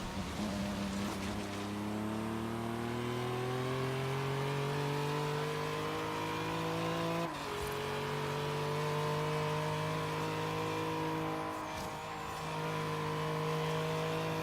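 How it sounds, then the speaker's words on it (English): A V6-powered Bowler EXR in Forza Horizon 3 accelerates hard, its engine note climbing steadily through the gears with brief shift breaks, loud and continuous with no talk. "This car is so fast with the V6 in it."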